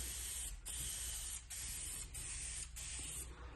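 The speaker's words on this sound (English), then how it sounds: "we're going to take our color coat and we're just going to spray a light mist" Several short hissing bursts of a spray can misting color coat onto vinyl for repair, each lasting under a second with brief pauses between, close and steady.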